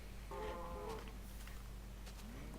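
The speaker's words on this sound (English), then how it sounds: "Cows are just giving themselves to me." Cows in Minecraft give a couple of low, wavering moos, fairly faint over a quiet game background with no talking.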